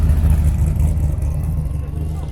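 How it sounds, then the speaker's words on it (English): A V8 engine in a Genesis car rumbles low and steady at a car show, its deep idle-like drone close and fairly loud for a couple of seconds. "This obviously is a V8 in this Genesis."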